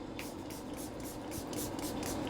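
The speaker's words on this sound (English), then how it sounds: "Today I'll be using my Green Goddess Milani" Milani Green Goddess hydrating facial mist sprays in several quick, soft hissing bursts close by, a steady fine spritz rhythm over faint background noise.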